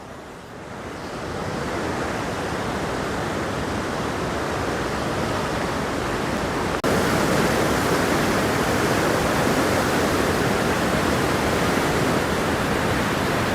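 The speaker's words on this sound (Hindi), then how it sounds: "बहुत ही ज़्यादा पावरफुल वाटरफॉल है" A powerful waterfall on the Kasang Nala in Kinnaur, India, roars in a steady, dense rush of white noise, growing slightly louder partway through and continuing without pause.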